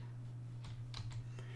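Keys being pressed on a computer keyboard while working in Photoshop, heard as a few soft, close clicks over a steady low electrical hum.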